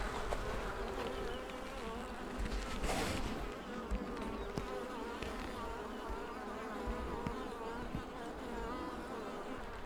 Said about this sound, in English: Ja, massor med bin.